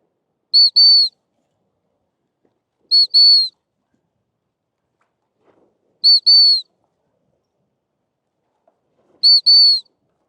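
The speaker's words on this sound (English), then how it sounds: "I'm going to blow the whistle and feed her." Four sharp, high dog-training whistle blasts for a Weimaraner, spaced a few seconds apart, each a quick double toot, loud and clear against silence.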